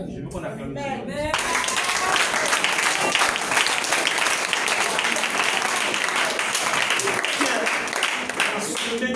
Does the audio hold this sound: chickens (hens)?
no